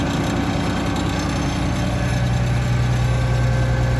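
A tractor engine idles steadily close by, a continuous low mechanical drone with a hum that shifts slightly in pitch near the end, alone with no talk.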